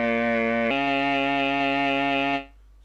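A single sustained bowed instrument note with a rich stack of harmonics, shifting abruptly upward by three semitones partway through the same bow stroke, then holding steady before fading out near the end.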